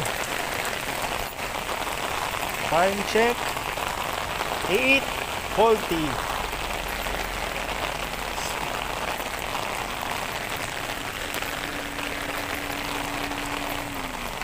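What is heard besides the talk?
heavy rain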